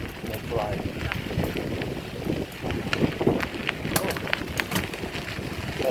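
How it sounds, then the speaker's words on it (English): Wind buffets the microphone in steady, rumbling gusts while bicycling into a headwind on a Sanibel Island, Florida beach, with scattered rustles and faint clicks riding over the roar. "So definitely the wind is coming straight at me."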